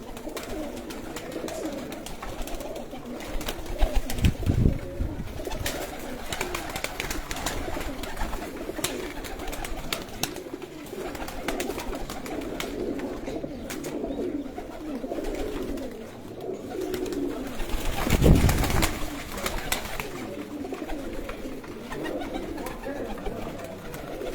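Breeder pigeons coo repeatedly from close by, soft rolling calls recurring across a long stretch with faint background noise and occasional louder bursts.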